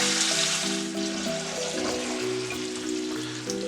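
Garlic cloves fry in a heavily oiled pan with a steady, close sizzle and crackle that runs without a break, with faint tonal kitchen hum underneath and no talking.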